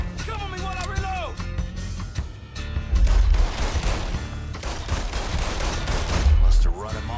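Gunfire in a Mafia shootout in New Bordeaux: repeated loud bursts and volleys crackle over several seconds, mixed with shouting voices.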